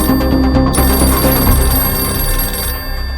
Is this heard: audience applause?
no